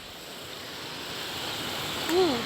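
Loud rushing water flows beneath a bridge, a steady broad roar of white noise throughout, with a brief short vocal sound near the end.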